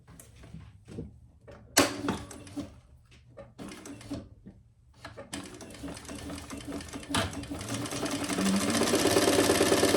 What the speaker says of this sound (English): I'm stitching across the top and the bottom